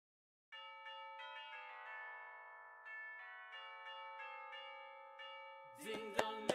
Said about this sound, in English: Ding dong merrily am I, the bells are ringing.